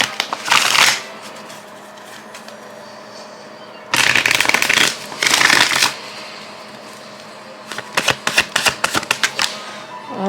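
Tarot cards are shuffled in several loud riffling bursts near the mic, each about a second long, with quiet pauses between them and a quick run of sharp card snaps at the end.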